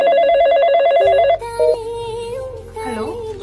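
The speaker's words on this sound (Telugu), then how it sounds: "ఫోన్ రింగ్ అవుతుంది" A telephone rings in a quick repeating electronic warble for just over a second and then stops, followed by other tonal sounds and a hint of voice.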